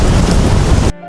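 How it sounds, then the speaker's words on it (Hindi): Heavy cartoon rain driven by wind, a dense, loud, steady roaring hiss that cuts off abruptly near the end. "तब तक खूब जोरदार बारिश होने लगती है। बारिश के साथ हवा भी चलने लगती है।"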